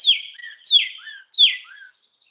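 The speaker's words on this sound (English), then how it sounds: "That's a pretty bird." A small songbird sings three bright, descending chirping phrases in a clear rhythmic series, close and alone, then falls quiet.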